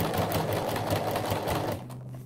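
A sewing machine stitches a zipper seam during a zipper replacement, running at a fast, steady, close whirring pace before easing off at the very end.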